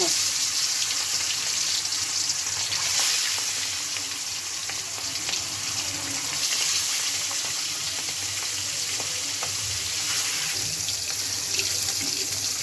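Pangas fish frying in a pan, giving a loud, continuous, close-up sizzle and hiss that holds steady throughout.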